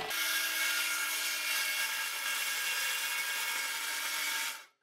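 A power saw rips a soffit board lengthwise during construction of a 20x30 workshop, producing a loud, steady high-pitched whine that holds for several seconds and then cuts off abruptly, with no talking.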